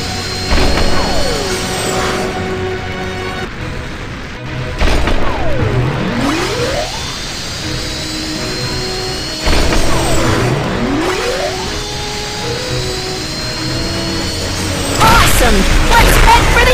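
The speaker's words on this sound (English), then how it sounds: "Press the button to accelerate the rocket!" Cartoon rocket blasting off and speeding up, with rising whooshing sweeps and booming bursts over a busy music bed, loud and continuous with a couple of sharp crashes.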